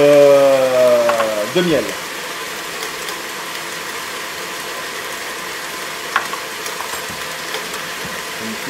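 An electric mixer whips biscuit batter as honey is added, a steady whirring drone that runs for several seconds after a brief spoken phrase fades at the start.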